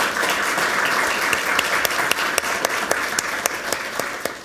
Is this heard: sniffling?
no